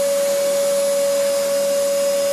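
A vacuum cleaner runs loud and close, holding one steady high motor whine with broadband suction noise for the whole stretch and no voices over it.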